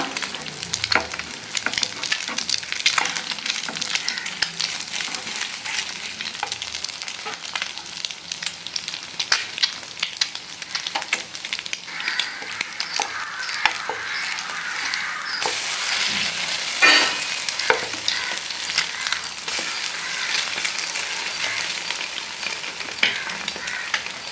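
A bread sandwich toasts in a pan over a low flame, giving a steady, close sizzle that runs unbroken throughout with a few faint scrapes and no talking.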